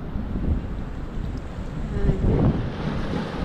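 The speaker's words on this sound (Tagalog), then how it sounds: "papasok yung alon dito" Sea waves roll in at a beach, a steady rushing surf mixed with heavy wind buffeting the microphone, loud and continuous, swelling slightly toward the middle.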